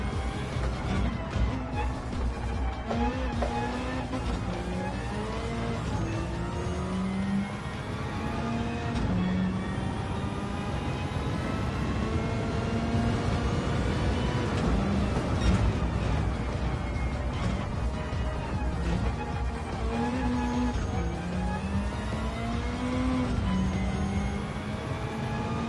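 Race car engines in a PS4 racing game, a steady, continuous drone of several motors whose pitch sweeps up and down through gear changes, sustained loudly for the whole stretch with no pauses.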